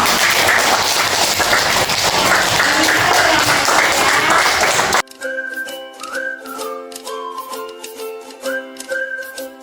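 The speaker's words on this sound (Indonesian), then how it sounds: "Mana tepuk tangan?" A classroom of students claps and cheers for about five seconds, noisy and dense, then it cuts abruptly to a short tonal melody played alone.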